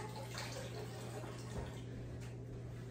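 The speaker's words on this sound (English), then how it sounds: "I'm just gonna run over here to the sink and grab a tablespoon of water" Water running from a kitchen sink tap, a steady faint stream with a low hum underneath, heard alone without talk.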